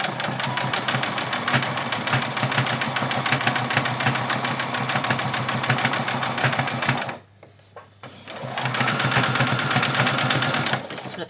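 A sewing machine stitches straight along a seam line on an apron, running steadily and loud for about seven seconds, pausing briefly, then resuming and running again nearly to the end.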